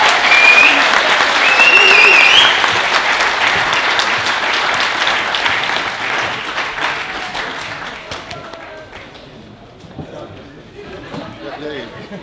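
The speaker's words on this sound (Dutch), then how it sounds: "ze hebben meer dan een grote applaus verdiend" An audience at a Dutch book presentation bursts into loud, sustained clapping with scattered cheers, then the applause fades away toward the end, with voices mixed in.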